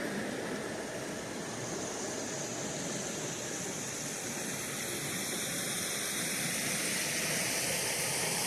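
Haw River water flowing steadily near Pittsboro, North Carolina, a continuous broadband rush like a stream or small rapids, close and even throughout with no talking.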